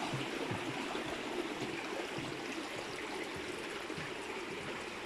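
A stream in Varennes, Dordogne, flows steadily, with a continuous close babbling and trickling rush of water under an open-air hiss and no talk over it.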